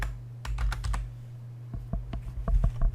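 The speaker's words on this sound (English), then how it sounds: "I'm going to type in her name" Someone types a name on a computer keyboard: short bursts of close, crisp key clicks in quick irregular rhythm over a steady low hum, with no talk.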